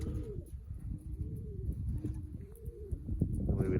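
Pigeons coo repeatedly just after release from their coop, a series of low rolling calls over a steady outdoor background of rustling and wind.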